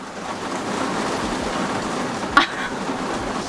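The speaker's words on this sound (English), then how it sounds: "now it's raining non-stop" Heavy rain falls outside a Sprinter van, a steady, even hiss of drumming water with one brief louder knock partway through.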